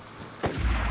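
A single gunshot in a video game, a sharp low burst near the middle followed by a rumbling boom tail, heard alone without speech.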